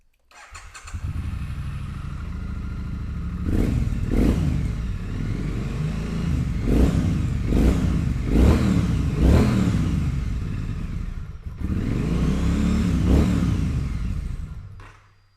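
A Triumph Street Twin motorcycle engine fires up and settles into a steady, close idle, then revs in a run of sharp throttle blips before a short pause and two more revs.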